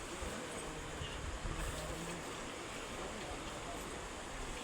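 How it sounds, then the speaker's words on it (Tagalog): Sea waves heard on a shoreline in the morning, a steady broad rushing wash with a slight swell in the middle, continuous and fairly even without talk. "Yung dagat."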